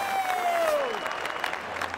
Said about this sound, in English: That is a this crowd is on their feet.